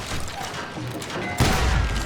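Shotgun fire in the Western shooter game Call of Juarez Gunslinger lands as a heavy, booming blast partway through, amid ongoing gunfight noise and a clutter of game sounds.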